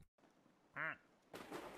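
A single nasal quack from a green dragon duck in a video game, short and clear, followed by a burst of soft noise.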